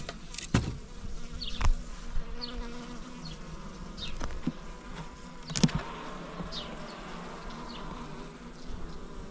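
Honey bees buzzing steadily around an open beehive, a dense close hum with individual bees zipping past, plus a few knocks and clicks from handling the hive, with no talking.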